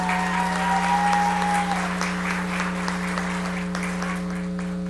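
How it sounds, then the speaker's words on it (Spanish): Warm crowd applause at the arrival ceremony of the first cruise ship in Pedernales, Dominican Republic, steady and sustained over a constant low electrical hum and faint tonal background. "Señor Mauricio Jamuy, CEO de ITM, este cálido aplauso es para él"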